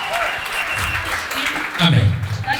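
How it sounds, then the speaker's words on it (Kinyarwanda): A church congregation claps in a steady wash of applause, moderately loud, while voices ring out over it and a low shout rises near the end. "amashyi menshi kuri Kristo Yesu"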